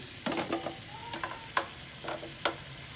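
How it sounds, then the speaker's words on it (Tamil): Chicken fries gently in a pan on a low flame, a steady quiet sizzle with brief crackles and small pops spread across the few seconds, with no voices. "சிக்கன் பார்த்தீங்கன்னா நல்லா லோவில், இங்கே பாருங்கள், இப்படி ஒரு லோ ஃப்ளேமில் தான் வச்சுருக்கேன்"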